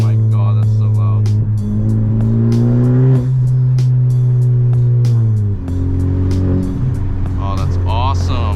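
A Honda Civic Type R FK8 fitted with a Tomei Type D catless exhaust roars loudly and steadily, its deep drone rising and falling with revs, while people talk and exclaim over it.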